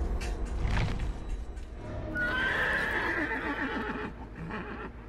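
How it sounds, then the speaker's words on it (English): A mutant horse in the video game Dead by Daylight lets out a long, shrill neigh with some clip-clop hooves, close and prominent, with no talking. "but it's just a horse. This mutant horse."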